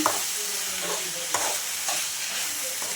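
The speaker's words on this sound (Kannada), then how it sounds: "ಮಧ್ಯದಲ್ಲಿ ತಿರುಗಿಸ್ಕೊತಾ ಇರಿ, ಇಲ್ಲಾಂದರೆ ತಳ ಹಿಡಿದು ಬಿಡುತ್ತೆ." Village-style brinjal curry frying in a pan as it is stirred, a close steady sizzle with repeated scraping strokes of the spatula.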